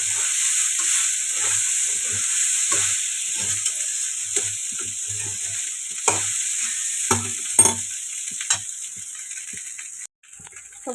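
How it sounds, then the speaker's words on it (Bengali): Rice with fried potatoes and peanuts being stir-fried in a pan, a steady soft sizzle with repeated short scrapes and knocks of a spatula, close by. "তো ভাত ভাজা কমপ্লিট"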